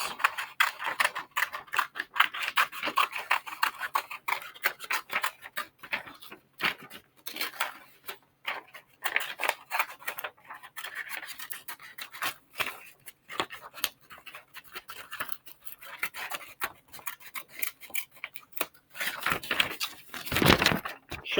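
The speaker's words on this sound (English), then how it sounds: "Did some fun curves, almost a circle at the end, all by cutting straight forward." Scissors snip through paper in curving cuts, a steady stream of quick crisp clicks and rustles running for about twenty seconds, close and alone without talk.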